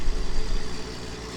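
A John Deere tractor idles in Farming Simulator 19, a steady low engine rumble with a slight pulsing throb that holds at a constant level throughout.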